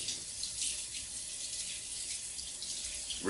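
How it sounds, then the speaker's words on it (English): Hot water runs steadily from a tap while canister elbows are washed under it, a constant close hiss with no pauses. "wash them under hot water"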